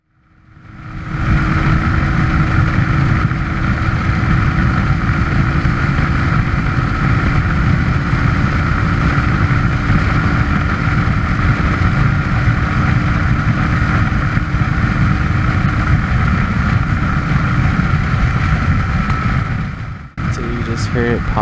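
Suzuki DR350S motorcycle engine droning steadily and loudly while being ridden, with a brief sudden drop and pop near the end as the ailing engine falters.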